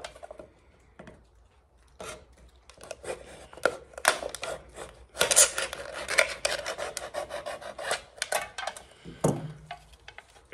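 Blade cutting through the top of an aluminum soda can: sharp rasping scrapes and crunchy metallic cuts, sparse at first then growing into dense, louder sawing strokes, close up with no talking.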